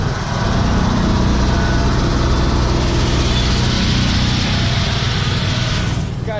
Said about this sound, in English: Got the air compressor running.